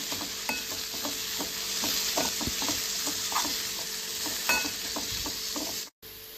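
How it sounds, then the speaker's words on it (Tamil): Drumstick (moringa) leaves frying in oil over a low flame, stirred steadily with rhythmic scraping taps against the pan over a continuous close sizzle, then a brief cutoff near the end. "இப்போ அப்படியே கலந்து விட்டு இந்த ஆயிலே பார்த்தீங்கன்னா முருங்கைக்கீரை அப்படியே வதங்கிக்கணும்"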